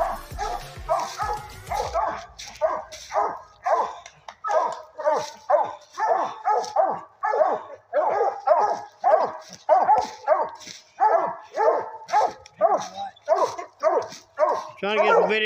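Hunting dogs bark and bay over and over in a steady, rapid rhythm, fairly close, with occasional yips mixed in and no other sounds taking over.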